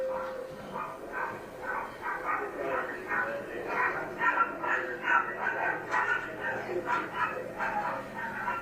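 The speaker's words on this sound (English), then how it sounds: "Did you hear something in the background when you arrived? I mean, a dog barking." A dog barks in the background of a recording played back during a courtroom trial, the yips and woofs repeating irregularly and sitting under and between steady voices talking.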